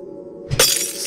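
Glass shatters in the video game Eternal, set in a facility holding monsters: a soft thud followed by a loud, bright, crashing burst of breaking glass, with a brief crackling tail.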